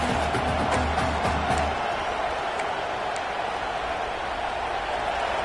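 A stadium crowd in a college football video game roars as a loud, continuous wash of noise that eases slightly after the first couple of seconds and then holds steady.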